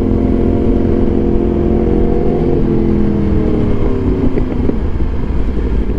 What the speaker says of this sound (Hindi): पॉकेट का एग्जॉस्ट मेरे को नहीं लगा था कि इतना लाउड होगा और इतनी अच्छी बैक फायर देगा